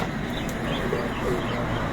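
Pigeons coo softly in the background at a bird shop, low murmuring calls over a steady hum of ambient noise.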